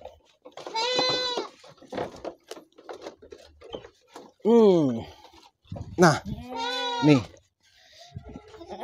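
Goats bleating on a livestock farm, with several loud, close, wavering calls standing out between stretches of people talking.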